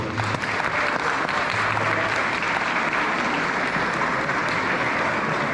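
A crowd gives sustained, dense applause for the performers of a live nativity staged in the prehistoric Vela Spilja cave. The clapping stays loud and even throughout, with a faint murmur of voices underneath.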